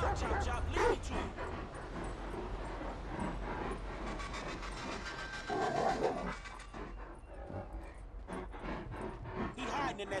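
A dog in the video game Grand Theft Auto V yips, whimpers and pants throughout, over game audio and someone talking, with a short pause in the middle before the panting resumes.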